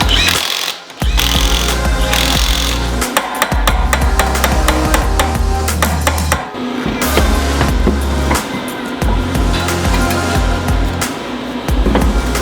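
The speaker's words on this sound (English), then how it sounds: "I need to punch down the axle nuts because we did put new axle nuts on there." Sharp metallic hammer strikes punch down new axle nuts on a Subaru WRX, a loud, close series of irregular bangs and clanks with short gaps between blows.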